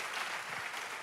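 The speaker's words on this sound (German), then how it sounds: "Lass uns einen Applaus geben." A church audience at ICF applauds as Dr. David Bennett takes the stage, a brief, even burst of dense clapping with no voices over it.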